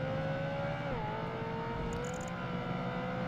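A Ferrari engine in Project Gotham Racing 2 drones at high revs, the pitch dipping briefly as it shifts and then holding steady, loud and continuous with a short electronic beep partway through.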